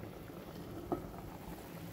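Apricots and apples simmer in a pot of boiling syrup, giving a steady soft bubbling hiss throughout with one brief pop in the middle.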